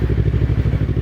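A Yamaha MT-25 motorcycle engine idles close by with a steady, throbbing low rumble and rapid regular pulsing, loud and continuous, with no voices over it.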